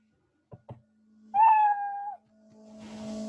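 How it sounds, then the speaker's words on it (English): A Scratch programming sound effect plays a single clear cat meow, a tonal rising-then-falling call lasting under a second, set between a couple of soft clicks and a low hum. "then we play meow"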